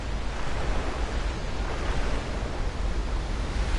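Waterfall in the video game Tomb Raider Anniversary, heard as a steady, dense broadband rush of falling water that holds even and unbroken throughout, with no talk over it.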